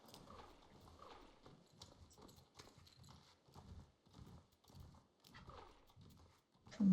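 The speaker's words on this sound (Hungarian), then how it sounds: "ott vannak a pacik" Horse hooves clip-clop at a steady walking rhythm in the Star Stable Online video game during a western festival, quiet and even with occasional faint background sounds.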